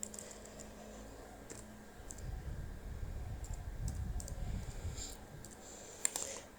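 Soft keyboard typing on a computer while coding, faint scattered clicks in short clusters over a low room hum, quiet and close with no talk.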